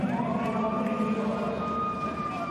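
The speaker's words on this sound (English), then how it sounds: "The sirens go off as Australia are about to serve." A steady electronic siren sounds in an indoor volleyball arena during the 2019 men's Olympic qualifying match between Italy and Australia, just before an Australian serve. The tone holds loudly and evenly over crowd murmur.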